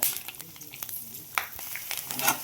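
Nylon sabudana frying in hot oil crackles and spits in a loud, close sizzle, broken by scattered sharp pops and stirring scrapes throughout.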